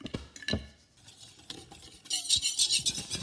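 A hand-cranked sifter sifts flour for pancake batter, with a few clinks and taps of utensils, then a dense raspy whirring that swells and pulses toward the end, close and without speech.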